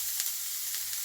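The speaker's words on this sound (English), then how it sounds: "Get that frying down with the meatballs too." Onion and meatballs fry in a pan on a campervan stove, a steady bright sizzle running throughout with small crackles, close and alone.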